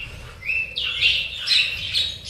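Small cage birds such as lovebirds, cockatiels, sun conures and finches chirp and squawk at a bird farm, with high calls overlapping continuously nearby and no talk.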